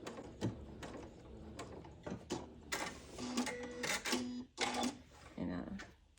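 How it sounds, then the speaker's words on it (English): Domestic sewing machine backstitching beside a seam on a lingerie thong, giving short bursts of rapid mechanical stitching that stop and restart, with a voice talking between them. "you can totally backstitch here, and just right next to that seam"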